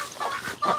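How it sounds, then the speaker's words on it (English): Farm chickens clucking near a pen where ducks are also kept, two short close bursts of throaty clucks with a brief gap between them. "So the chickens and ducks are going to come in here and hang out."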